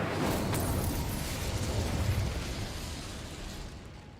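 Incendio fire spell cast in the video game Hogwarts Legacy, a loud sustained roaring whoosh of flame that swells at once and slowly thins out over several seconds, with no voices.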